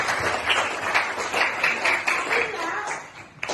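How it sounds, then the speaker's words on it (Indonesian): A class claps for a student named Nasiba during a lesson, steady close hand clapping filling the room with some voices mixed in. "tepuk tangan untuk Nasiba"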